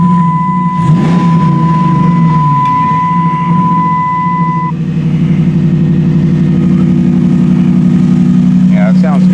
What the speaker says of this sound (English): But I'll start the thing up. Hopefully you can hear my voice over it.